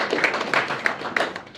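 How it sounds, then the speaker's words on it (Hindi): An audience claps at a business networking talk: a short, moderately loud burst of scattered, uneven hand claps that blend into a busy patter with no voices on top. "उसको कोड़े पड़ते तो ताली मार दो।"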